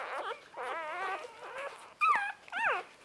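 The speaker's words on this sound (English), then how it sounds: "so you can see what 11 puppies looks like at 2 days old" Two-day-old puppies in a litter of eleven whimper and squeal while nursing, several thin, wavering cries close by, with two sharper squeaks near the end.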